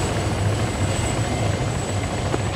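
Helicopter rotor and engine drone, steady and fairly loud throughout with a constant low thrum, as heard from nearby without talk.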